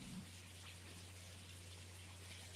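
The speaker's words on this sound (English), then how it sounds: "It's just pouring. It's just sleeting." Steady rain and sleet falling outdoors in Coloway, North Carolina, a faint continuous wash of drops with a low hum beneath and no voices.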